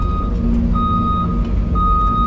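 Haul truck reversing at a pond construction site, its backup alarm sounding three evenly spaced loud beeps over a heavy, steady diesel engine rumble.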